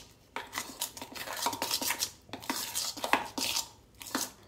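A utensil stirs imirthi batter with salt and red chilli powder in a bowl, making close, irregular clinks and scrapes against the side in a steady rhythm.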